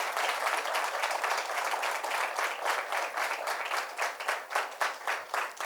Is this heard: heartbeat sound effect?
no